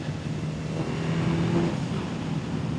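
A 1000 cc Suzuki GSX-S1000 motorcycle accelerates with its quick shifter, a steady, fairly loud engine roar with a rising drone and wind rush that runs unbroken throughout.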